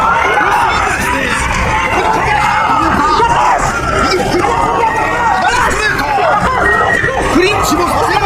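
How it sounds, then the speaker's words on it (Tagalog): A dense crowd of Japanese fans at a boxing match shouts and yells continuously in a loud, echoing arena roar, with individual cries rising above the babble and a commentator's voice mixed in. "Sumisigaw ang mga Hapones, inaasahan ang pagbagsak ng Pinoy."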